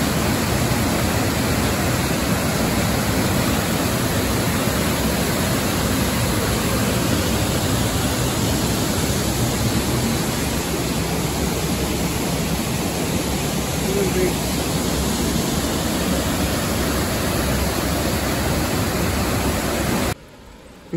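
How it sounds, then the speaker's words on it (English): River water flowing in a steady, dense rush, loud and unbroken throughout before dropping off sharply at the very end. "Tubig sa river ganyan."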